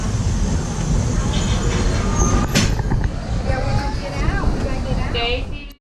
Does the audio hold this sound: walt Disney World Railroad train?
yes